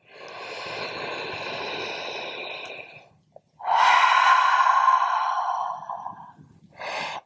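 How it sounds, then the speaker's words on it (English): Long breathing during a gentle yoga flow: a drawn-out airy exhale, a brief pause, then a deep, loud inhale through the nose or mouth, followed by the start of another breath, close to the mic. "One more inhale."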